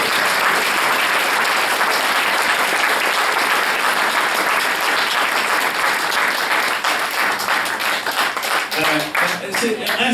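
A church congregation applauds steadily and loudly throughout, dense clapping filling the space, with voices mixed in beneath the applause and a slight thinning near the end.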